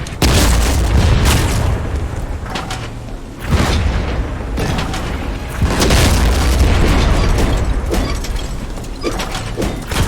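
An explosive blows up during a pirate ship battle in Blazing Sails, giving heavy, loud booms and rumbling blasts. Mechanical rattles and debris clatter run through the sustained din.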